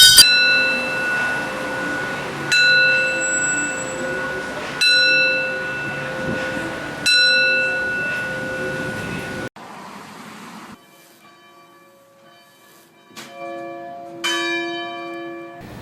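Church bells ring out in a commemoration of Dr. Martin Luther King, struck in loud, steady strokes about every two and a half seconds with long ringing tones, then a brief pause before a lighter, higher bell chimes near the end.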